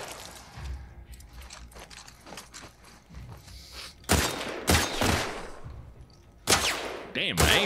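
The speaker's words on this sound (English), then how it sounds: "Guns are fucking blazing." Gunfire in The Last of Us Part 2, a video game: scattered shots crack out, then several loud, sharp bursts land near the end, with footsteps and movement between them.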